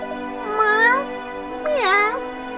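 A cat meows twice in the Professor Layton and the Last Specter video game, each a rising, wavering call about a second long, clear and close over a steady background tone.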